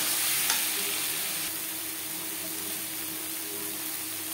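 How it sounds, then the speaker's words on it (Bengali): Turmeric, salt and spices being mixed in a hot pan for a Bhangor fish curry, giving a steady close sizzle with soft stirring scrapes and no talk. "লবণ হলুদ মশলার সাথে বেশ ভালো করে মিক্স করে দেবো।"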